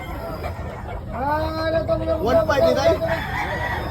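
Roosters crow and cluck at a chicken expo in Tabunok, Talisay, Cebu, with one crow rising clearly above the crowd. People talk nearby and a hubbub of voices runs throughout.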